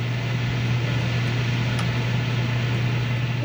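Noisy air fryer running with a steady loud hum and broadband whir, continuous and close, with no speech over it.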